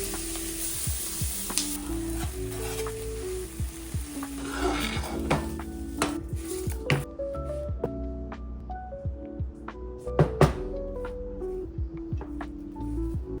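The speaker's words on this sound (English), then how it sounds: "So I'm just gonna heat up a pan and cook all of this up." Zucchini, onion and pepper cooking in a hot pan with a steady close sizzle, broken by repeated scrapes and clinks of a stirring utensil. A faint melodic background runs underneath, and no one speaks.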